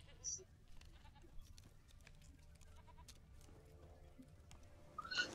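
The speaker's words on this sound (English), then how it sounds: "so I can hear the goat, because you can actually hear it." A goat bleats in the video game The Witcher, short faint calls near the start and end over quiet game ambience, with soft background sounds between.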